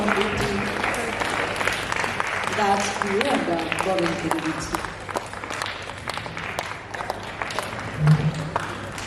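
Audience applause at a felicitation ceremony honouring a play's director with a scarf, steady clapping from a crowd that swells and fades while someone speaks over it through a microphone.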